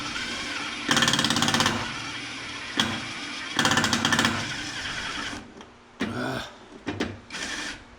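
Power drill boring into a boat's bait board with a dull blade, working at slow speed: loud grinding bursts start and stop in several runs, with pauses of lower motor hum between them.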